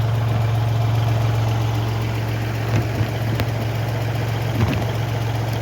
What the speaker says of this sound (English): So this is a 38 horsepower tractor.